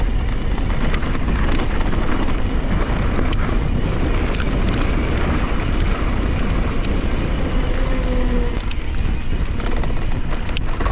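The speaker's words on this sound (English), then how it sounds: "And then the wind too." Constant heavy wind buffets the microphone while riding an eBike on a trail at a demo day, a loud unbroken roar with faint rattles and clatters beneath it.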